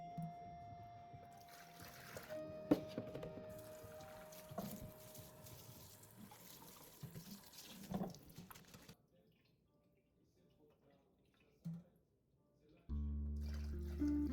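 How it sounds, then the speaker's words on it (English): Uncooked rice being rinsed in a container of water in a home kitchen, with an uneven trickling, dripping and sloshing wash of liquid that fades to near quiet before a brief louder splash near the end. "Today I use 8 cups of water, rinsing 2 cups of uncooked rice."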